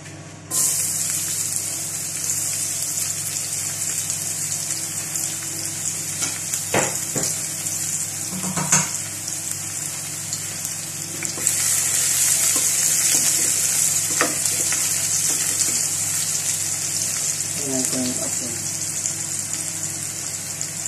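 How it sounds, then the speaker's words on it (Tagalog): Garlic sizzling and frying steadily in hot cooking oil in a pan for a Filipino sautéed sardines and bottle gourd dish, a continuous close crackle with a few brief clinks and stirring noises, no one speaking. "Lalagay ko na yung bawang."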